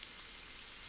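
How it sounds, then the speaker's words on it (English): Steady rain ambience from a horror RPG, a soft continuous hiss of falling drops held at an even, quiet level throughout the short stretch with no talking. "It's doing a pretty good job with the atmosphere. The rain effect."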